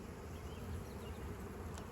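Honey bees buzz around an opened hive during spring beekeeping, a soft, steady, close droning hum with no talk.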